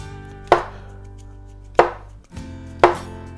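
Knife chopping button mushrooms on a board for a pork and ginger stir fry: three sharp, close cuts spaced about a second apart, each followed by a short ring, with no voices.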